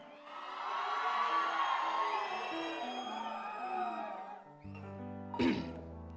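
A concert crowd at a Telugu association event in the US roars and whoops loudly and continuously for several seconds. The noise then drops into a sharp musical tone with a final burst of shouting.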